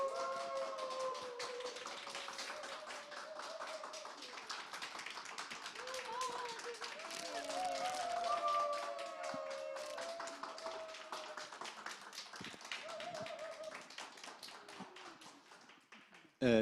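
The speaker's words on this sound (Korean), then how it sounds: "김영기 앤 허만길 리더님을 박수로 모시겠습니다." Participants at a one-day seminar clap to welcome the two seminar leaders, a long run of quick, fairly faint claps with wavering tonal sounds and voices mixed in throughout.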